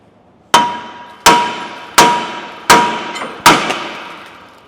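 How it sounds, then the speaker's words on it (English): Five sharp metallic hammer blows strike a rear brake rotor at an even pace, each loud clang ringing out and decaying before the next hit, with no talking. "hit the rotor right here."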